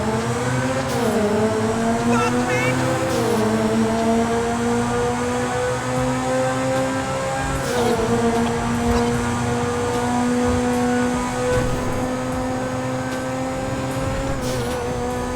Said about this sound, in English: This vehicle also has arguably the best sounding engine in the entire game.